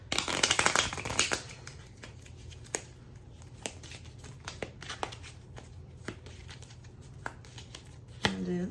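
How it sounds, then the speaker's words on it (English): A deck of cards is riffled in a brisk burst, followed by softer taps, flicks and a final riffle near the end. "Let's do our fourth shuffle."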